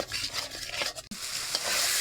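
A spatula stirs and scrapes spice paste with salt, coriander and chili in a pan over a clay stove, with a soft sizzle under the rough strokes. It is close and continuous apart from one brief pause.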